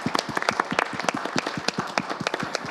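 A church congregation claps together to welcome the new year at a New Year's Eve service, a dense, steady patter of many hands at close range with no voices over it.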